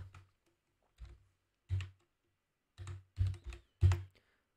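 Computer keyboard typing, heard as six short clusters of clicky keystrokes spaced irregularly with silence between, close and fairly quiet, with no talking.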